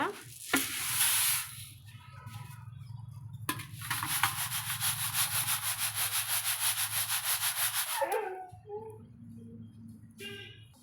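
Split urad dal being sifted in a sieve at home, a steady rhythmic scraping and rubbing of grains against mesh, close and continuous with pulsing strokes, pausing briefly and resuming, no talk.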